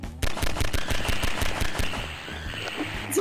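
Rapid automatic gunfire rattles in Garry's Mod while fleeing headcrabs, a fast steady stream of close, sharp shots that thins toward the end.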